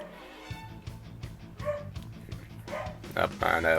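A dog named Moss barks and yips in short bursts close by at home, mixed with whimpering sounds, while someone talks over it.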